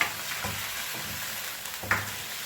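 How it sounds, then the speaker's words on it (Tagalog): Chicken feet sautéing in soy sauce for adobo, a steady close sizzle of frying with a couple of soft stirring scrapes, with no talking. "Yan, gisa talaga siya. Pinigisa ko muna yan sa sa toyo."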